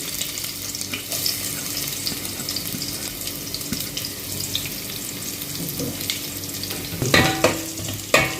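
Mustard seeds with chopped ginger and garlic frying in hot oil, a continuous crackling sizzle with spattering pops and a few louder stirring clatters toward the end.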